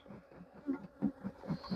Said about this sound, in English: So as you can see, the bees are not happy. They're quite angry.